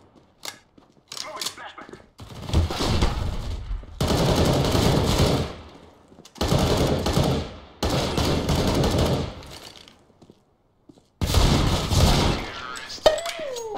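CS:GO gunfire: several loud bursts of rapid shots separated by short pauses, with a few single shots and faint background game sounds between them.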